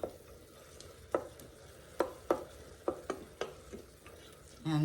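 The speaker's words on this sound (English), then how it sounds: "we're just gonna scrape over the bottom of the pot a few times" Utensil scraping the bottom of an Instant Pot on saute while deglazing, several distinct scrapes and knocks in an uneven rhythm over a faint sizzle, close up, with no talk.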